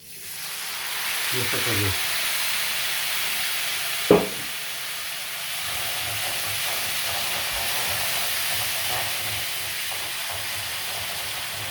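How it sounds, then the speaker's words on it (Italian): White wine, Ribolla Gialla, poured into a risotto pan gives a steady steamy hiss that runs throughout, with a brief sharp clink near the start and a voice speaking briefly over it. "Adesso ci aggiungiamo un po' di vino bianco, un po' di ribolla gialla"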